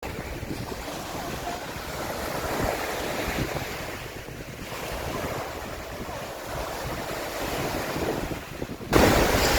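Waves rolling onto the shore of Lake Huron at Sarnia harbour, a continuous wash of surf mixed with heavy wind buffeting the microphone, with a sharper gust or surge at the very end.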